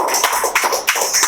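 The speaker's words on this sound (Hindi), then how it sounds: "क्या आंसर, तालियां बजाओ, तालियां।" Students in a Class 9 classroom clap for a classmate's correct answer, a short burst of loud, close hand claps in a few uneven rhythmic pulses.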